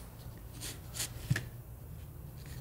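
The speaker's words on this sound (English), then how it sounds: "So we just plug in our memory card here now." A memory card slides into a Canon EOS-1D series camera with a brief close plastic rustle and a small click, no talking.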